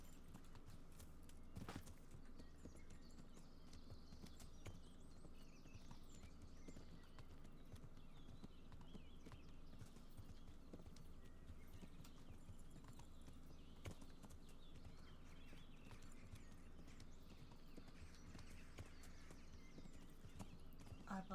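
Horse hooves clip-clop in a steady walking rhythm while riding in the medieval video game Kingdom Come: Deliverance, faint and continuous under a low ambient bed, with an occasional snort-like accent.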